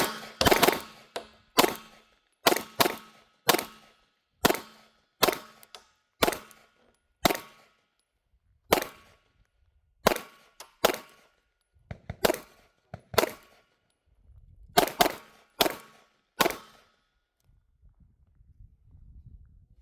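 Loud, sharp 9mm shots from a SIG P365-FUSE pistol at a shooting range, about twenty reports in irregular clusters of single and double shots with brief gaps, ending in quieter ambient rustle.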